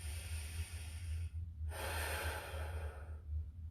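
A deep, slow inhalation through the nose during a stick-assisted static stretch, a soft breathy rush rising then ending, heard close but faint over a low steady hum.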